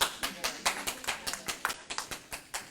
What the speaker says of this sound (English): Let me clap for you right now